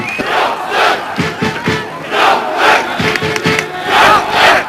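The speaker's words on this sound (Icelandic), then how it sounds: "Við heyrum að það eru Þróttarar eru hvattir af fjölmörgum áhorfendur sem eru á Valbjarnarvelli" Football crowd at Valbjarnarvöllur cheering on Þróttur during a league match against KA, loud massed chanting and shouts rising and falling in waves, with rhythmic clapping bursts between the swells.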